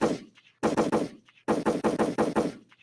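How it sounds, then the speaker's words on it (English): A rapid burst of gunshots rings out in two tight volleys, each a string of about five sharp, loud, evenly spaced cracks separated by a short silence. "Gunshots."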